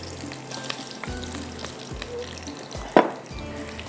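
Curry leaves and cumin seeds sizzle and crackle in hot oil, a steady close frying hiss with a few sharp pops and one loud spatter burst near the end, no voices.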